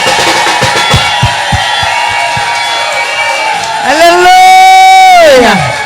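A church congregation cheers and acclaims loudly, swelling into sustained whoops and shouts that overwhelm rhythmic clapping and music.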